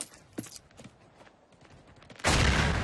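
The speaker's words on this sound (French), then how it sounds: "Il ménage pas ses feux d'artifice, hein?" Fireworks in a neighborhood start with a few sharp scattered pops, then erupt into a loud, sustained crackling roar near the end.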